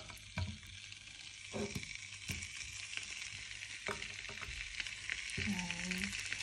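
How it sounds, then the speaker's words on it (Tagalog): Sausages frying in a pan, a steady close sizzle with scattered stirring knocks and scrapes throughout, and a soft voice briefly near the end. "Unahin ko siya pagluto, sausage."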